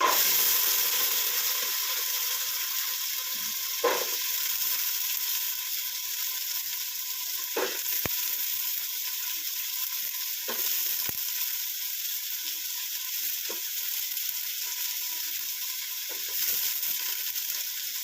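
Hot oil frying in a pan while cooking sambar with ivy gourd and cauliflower, a steady soft sizzle and hiss throughout with a few faint stirring clicks and taps, no talking.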